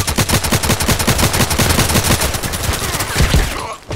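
Rapid automatic gunfire in the Contract Wars online shooter video game rattles as a steady, loud, evenly spaced burst of shots that runs for several seconds before stopping abruptly.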